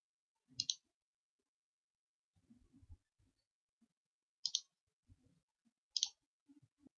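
A computer mouse clicks a few times while a website registration form is filled in. Three crisp, isolated clicks sound close and quiet, with faint soft handling noises between them.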